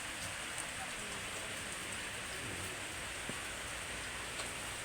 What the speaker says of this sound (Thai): ฝนตกแดดออกเขาเลย